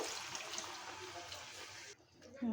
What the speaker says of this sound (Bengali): এখন দিয়ে দিব এটা স্বাদ মতো ঝোল দিয়ে দিব